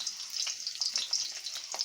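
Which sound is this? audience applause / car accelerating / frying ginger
frying ginger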